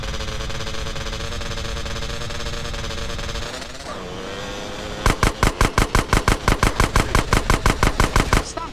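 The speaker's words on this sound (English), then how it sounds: "Stop shooting that thing right next to my ear!" Rapid automatic gunfire in GTA San Andreas bursts out right beside the player after a steady engine drone, a fast even string of about twenty loud close shots lasting several seconds.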